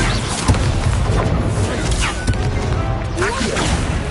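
Fiery spell bursts in a Hogwarts Legacy duel, a dense crackling whoosh with sharp thumps and magical impacts layered over busy game sound effects, with shouted incantations in the mix.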